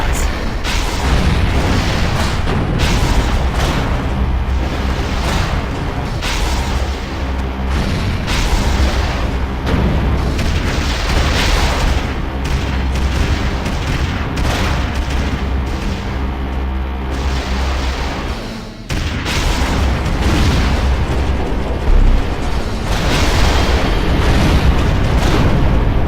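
Video game explosions tearing through the Francodyne lab cooling towers, a dense barrage of loud booms and bursts rolling almost nonstop, with a brief lull before more blasts, as voices talk over the din.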